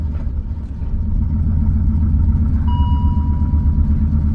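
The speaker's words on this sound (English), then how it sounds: "It's lifter ticking so bad." A BMW E39 M5 engine running rough with bad lifter tick and misfire, a loud steady low rumble with a faint ticking layer and a thin whine entering partway, close and without voices.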